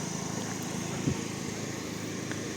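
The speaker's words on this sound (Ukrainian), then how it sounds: "Тут теж чути генератор і видно." A power generator runs outdoors on an evening street in Truskavets, a steady low engine drone held at an even level throughout, with one brief louder knock partway through.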